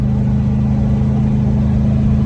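A 1989 Range Rover Classic with a modified exhaust drones steadily at around 3,000 RPM while driving, a loud, continuous low engine and exhaust rumble with no other sounds.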